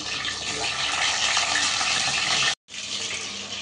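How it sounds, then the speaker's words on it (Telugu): Halved bitter gourd pieces fry lightly in hot oil with a dense, steady hiss and crackle that runs continuously, breaks off into a brief silence, then resumes just as strongly. "ఫస్ట్ కాకరకాయలు ఈ కట్ చేసుకున్న కాకరకాయలు మధ్యలో కట్ చేసిన ఇవి వేపుకుందాం"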